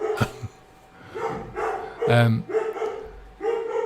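A dog barks a few times at close range, with a yip and a short whimper, while someone talks over it.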